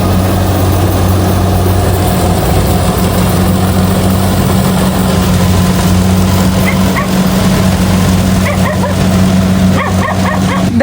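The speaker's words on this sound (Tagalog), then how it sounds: "Tinatahol po ako na itong aso po nila Dudots." A dog barks at someone walking past during a rice harvest in a rural Filipino yard, a few sharp barks rising near the end over a steady engine idle and constant outdoor noise.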